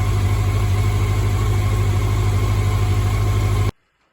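Engine idling steadily at close range, a loud, even, low rumble with a constant hum that runs unbroken for several seconds and then cuts off abruptly into silence.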